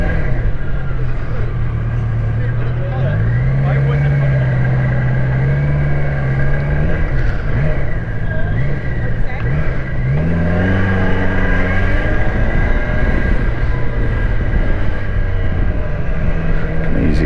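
City commuting traffic rumbles around a BMW K1200LT motorcycle, with the bike's engine droning and rising in pitch through gear changes, loud and continuous, while a rider talks over it.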